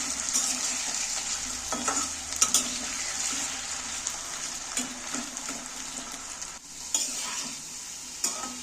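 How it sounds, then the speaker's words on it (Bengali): Potatoes sizzle in hot oil as they are stirred and turned in a pan, with repeated spatula scrapes and knocks over a constant frying hiss. "আলুটাকে আমি তেলের মধ্যে একটু নাড়াচাড়া করে ভেজে নেব"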